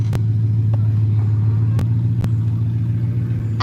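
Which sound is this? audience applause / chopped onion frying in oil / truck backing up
truck backing up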